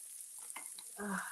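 Onions fry on a stove burner with a steady high hiss and crackle, close and quiet, with brief stirring scrapes and a louder sizzling burst near the end.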